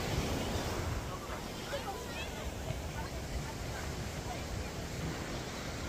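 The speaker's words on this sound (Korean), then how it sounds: "바다로 나왔습니다. 오히려 바닷물이 덜 차갑습니다." Sea waves on a beach in winter, a steady low wash of surf with wind rumbling against the microphone, fairly faint and continuous with no talk over it.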